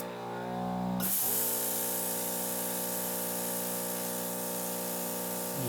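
A spray gun lays a second coat of candy red paint on a car convertible, a steady close hiss that bursts in after a second of tonal hum and continues evenly.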